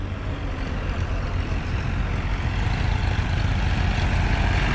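A Farmtrac Champion tractor engine runs steadily with a low, rough diesel rumble and a broad hiss, loud and continuous, with no break across the whole stretch.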